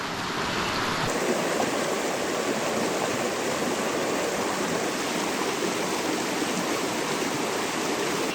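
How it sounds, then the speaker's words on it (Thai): A long jungle stream of cold water flows steadily in a rain-soaked forest, a dense, continuous rushing wash with no pauses and no voices. "โอ้โหลำธารยาวไปถึงนู่นเลยนะครับ"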